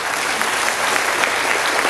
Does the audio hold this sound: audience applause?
yes